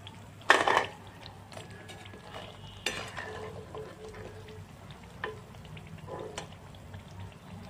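Fried coconut pitha being lifted out of hot oil in a pan, with a burst of sizzle and metal utensil clinks and scrapes, then a few quieter taps and clatters against a faint background hum.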